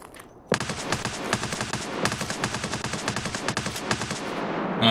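Rapid automatic gunfire in the video game Escape from Tarkov, a sustained burst of closely spaced shots rattling for several seconds, loud and near, with no talking.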